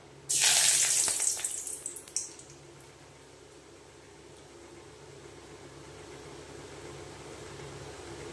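A bay leaf drops into hot oil for mulo malaikari, setting off a loud, close hissing sizzle that flares for about two seconds and then dies down to a faint, quiet background.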